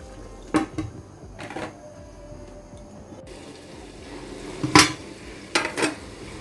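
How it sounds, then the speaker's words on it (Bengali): Scattered metallic clinks and scrapes of a utensil stirring beef in a pot, a few sharp knocks spaced irregularly over a quiet background. "আমি মাঝে মাঝে নেড়ে দিচ্ছি"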